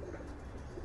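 Racing pigeons near a loft trapdoor give off soft, low cooing in a short burst, steady and fairly quiet against light background noise.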